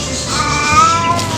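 Several cats meow loudly and insistently for food at a cat care facility in the morning, tonal cries overlapping one another up close with steady background noise and no talk.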